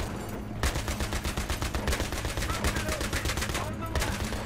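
Dense, continuous rapid gunfire from Battlefield 3 armored-unit combat, near and loud, with overlapping bursts of automatic fire and a brief lull before the shooting resumes, while a voice shouts faintly underneath.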